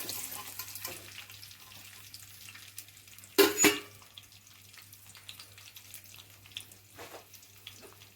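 Onion, mustard seeds and cumin fry in oil in a pan, giving a faint steady sizzle with a sharp splash or clatter midway and a low steady hum underneath.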